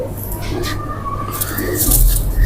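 A golden pigeon coos in a burst of bird calls over steady low hum and background noise, the calls rising toward the end.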